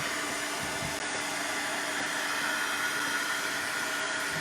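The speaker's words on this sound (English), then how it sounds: "give this another blast with my heat tool" Heat tool blasting hot air onto a mixed media altered paintbrush craft piece, a loud, steady, close whooshing blower roar held without a break.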